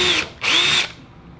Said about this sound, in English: I've already changed out the drill bit to this little pilot drill bit, and I'm gonna go ahead and just mark my pilot holes, or I'm gonna drill them right here